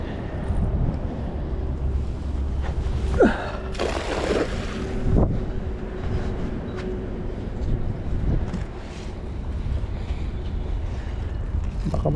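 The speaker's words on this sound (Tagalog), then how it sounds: "Hangin na lang yung maririnig sa ating audio." Wind buffets a microphone outdoors by the water, a continuous low rumbling gust noise with a few knocks and bumps scattered through it.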